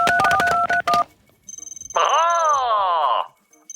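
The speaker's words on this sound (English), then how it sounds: "Let me just get him on the phone here, Hex." Touch-tone telephone dialing in a Ghostbusters game: a rapid burst of dial tones, then a short pulsing tone and a drawn-out groaning, voice-like sound.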